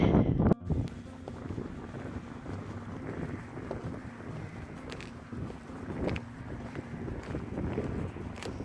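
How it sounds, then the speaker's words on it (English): Strong gusty wind buffets the microphone on a coastal hike across open fields near Torbay and Maidencombe, a continuous loud rumbling roar with a brief drop early on, no talk. "it's getting really windy up here because it's loads of fields, no trees"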